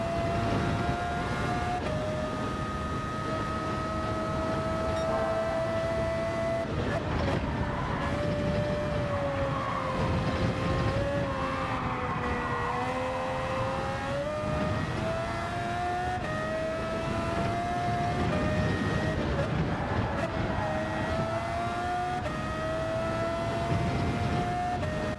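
A Formula 1 car laps a track in Gran Turismo 7, its high-pitched engine whine rising and falling steadily through gear changes and corners, loud and continuous for the whole run with no talk.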